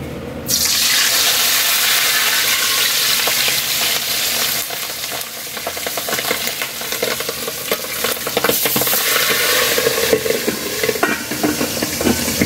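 Pork for pares sizzles loudly in a hot pan, a dense continuous crackle that starts abruptly and keeps spitting and popping throughout.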